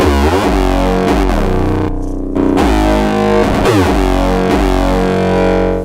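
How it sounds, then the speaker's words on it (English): 808 bass distorted with a Reaper waveshaping plugin, loud buzzing sub notes with a gritty harmonic-rich edge, played in repeated punchy hits with one short gap of silence. "you can drive it and crank it like crazy. But just before that, it just adds this gentle buzz to the 808"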